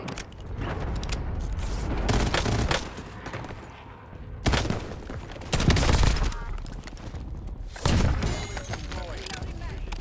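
Bursts of rapid gunfire from dual Vertox 5.7 pistols in Call of Duty on Rebirth Island, loud clustered volleys with brief pauses between them, mixed with in-game effects and impacts.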